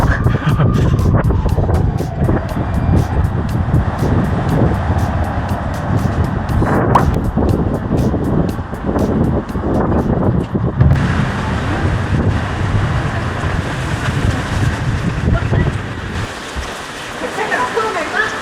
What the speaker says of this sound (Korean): 바람 엄청 불고